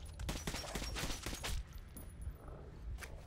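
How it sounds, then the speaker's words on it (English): Rapid, sustained bursts of gunfire in the video game Metro 2033 Redux, dense and loud for the first second and a half, then a lower rumble of scattered shots and clatter, with no talking. "Literally shooting these guys."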